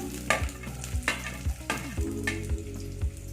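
Small shallots and garlic fry in a pan with a soft sizzle, while a spoon scrapes and stirs in regular strokes about every half second, quiet and close.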